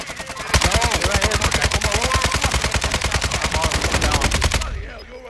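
Sustained rapid automatic gunfire from an enemy team in Warzone 2, loud and close, a dense burst of evenly spaced shots lasting several seconds before cutting off abruptly.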